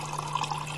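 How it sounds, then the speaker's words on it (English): Water pours into a shaker of protein powder in an early-morning kitchen, a short, faint trickling fill over a steady background hum, with no talking. "popping protein powder and pouring water"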